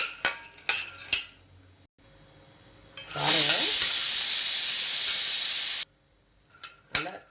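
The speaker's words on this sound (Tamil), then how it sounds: "நிலக்கடலை வறுந்துட்டுருக்கு. இன்னொரு 2 நிமிஷம் வறுபடட்டும்." Scattered clinks and scraping of a utensil in a pan, then a loud steady sizzling roar for a few seconds before cutting off, with more clinks after.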